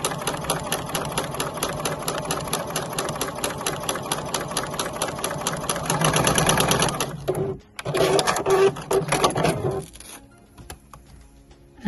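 A sewing machine stitches scrap fabric at a 4.0 stitch length, a steady rapid mechanical whir with fast rhythmic ticking that pauses briefly, restarts, then stops near the end, heard close and loud.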